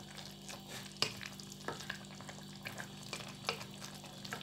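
Thai pork curry keeps bubbling softly in its pot after the heat is switched off, a faint, steady simmer marked by a few light clinks and small pops.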